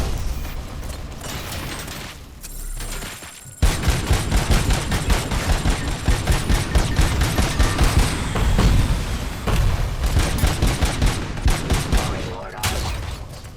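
Gunfire crackles in RoboCop: Rogue City as an enemy sniper and other weapons trade shots, loud, rapid bursts after a brief lull, with mechanical clanks and a voice speaking briefly.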